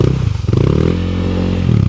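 A Honda CRF dirt motorcycle engine revs loudly and close up, rough throbbing with clattering mechanical noise, no talk.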